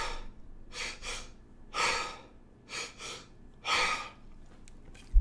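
Forceful breathing drill by one person: sharp, loud exhales pushed out in a few separate bursts, some paired, close to the mic with quiet pauses between.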